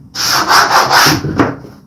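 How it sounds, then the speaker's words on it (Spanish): Sandpaper rubs along the edges of a wooden drawer for a closet chest of drawers in several quick, close back-and-forth strokes, loud and scratchy, with no talk. "puede pasar un poco de lija en los bordes para que no tenga ninguna rebarba"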